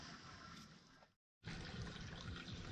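Water rushes steadily into a Fatsac transom bag on a Yamaha boat until it overflows. The close, continuous hiss cuts out briefly, then resumes.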